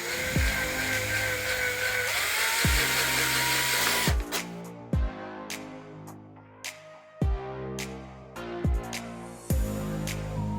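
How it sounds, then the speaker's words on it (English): A power drill with a 6mm bit whirs steadily, then gives a series of short on-off bursts with falling pitch as the trigger is released, close and moderately loud. "go in with a 6mm drill bit to get a good finish on here"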